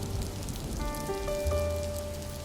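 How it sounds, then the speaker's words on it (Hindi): Heavy rain falls in a steady, even hiss of dense patter, with faint sustained tones beneath it and no voices. "एक दिन बाहर तेज बारिश हो रही थी।"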